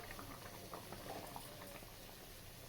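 Snake gourd milk saaru boils in a pot on the stove, a steady, even bubbling that keeps up throughout, close and moderately loud, with no voices.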